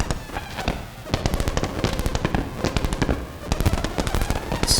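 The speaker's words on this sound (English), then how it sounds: "And bring the ring mod up in the filter." Behringer 2600 synthesizer with the ring modulator fed into the filter, producing a rapid crackling, sputtering stream of clicks and metallic bursts, dense and irregular throughout.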